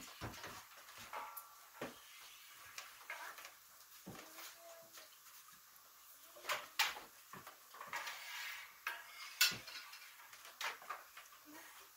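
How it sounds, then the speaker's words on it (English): A spoon stirs rennet into raw milk in a pot while making Parmesan cheese, giving irregular clinks, knocks and scrapes against the pot that come and go over about twelve seconds. "We are going to mix this together in an up-down fashion from the surface of the milk down to the bottom"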